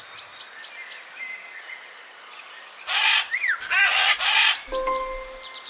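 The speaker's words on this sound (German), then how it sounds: "Wie klingt der Papagei?" A parrot's loud, harsh squawks and a swooping whistled call burst out over a background of softer bird chirps, then give way to a steady tonal hum.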